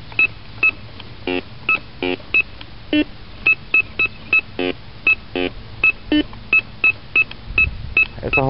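A metal detector sweeps over buried metal, giving a long series of short, sharp, evenly spaced electronic beeps, loud and close, with quieter background hiss between them and no talking.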